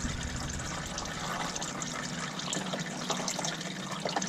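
Motor oil draining from a Can-Am X3 side-by-side during an oil change, a steady liquid trickle and pour heard close up, continuous and fairly quiet with no talking.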